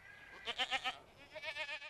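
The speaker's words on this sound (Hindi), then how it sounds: "ये बकरा कितने का है?" A goat bleats twice in quick succession, each call a wavering, pulsing cry, moderately close and fairly faint, with no other sounds over it.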